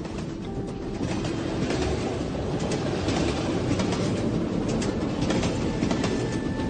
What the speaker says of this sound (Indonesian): Setiap hari sering sekali ku dengar suara kereta api yang lewat